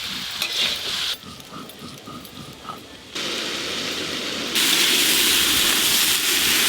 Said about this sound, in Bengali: এদিকে সব রকম সবজি খুব ভালো করে ভাজা হয়ে গেছে